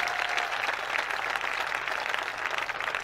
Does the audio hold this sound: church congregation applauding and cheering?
yes